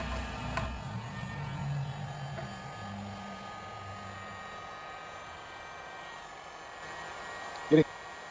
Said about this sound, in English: So let's get a little heat on there, and away we go.